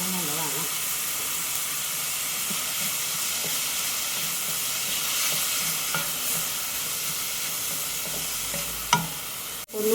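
Curry leaves sizzling hard in hot oil in a pan for Kerala-style pig fry, a loud continuous crackling hiss with occasional stirring scrapes and a sharp clatter near the end.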